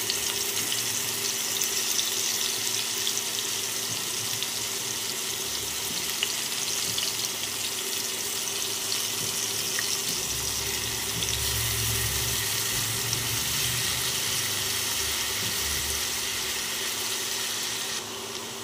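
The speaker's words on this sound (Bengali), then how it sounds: "দিয়ে দিচ্ছি 8 থেকে 10টা রসুন থেতো।" Crushed garlic, 8 to 10 cloves, fries in a pan for an egg and potato curry, giving a continuous close sizzle and hiss with faint stirring throughout, with no talk.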